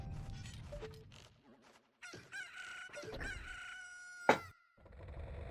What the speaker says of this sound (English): bow shooting sound is chickens.